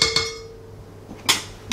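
A spatula scrapes a mixing bowl of creamed butter and egg, with a couple of sharp knocking clinks at the start and another bright scrape-and-tap near the end, close up with a quiet pause between.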